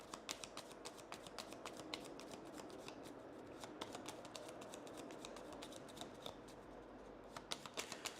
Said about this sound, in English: We get 4 cards, so we're shuffling